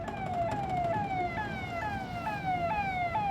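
An ambulance siren on a road sounds a fast, repeating yelp of falling tones, several cycles each second, loud and steady over a low rumble of traffic.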